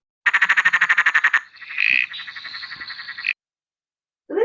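A small hidden frog calls in a recording, giving a fast burst of pulsed croaks and then a buzzy trill before stopping, followed after a pause by a brief low sound.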